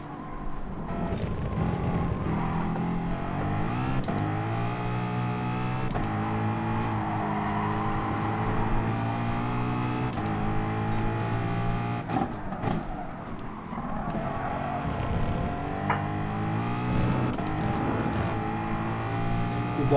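Race car engine under throttle in Gran Turismo Sport, a loud sustained roar that climbs and dips through gear changes and lifts, steady and close with no talk.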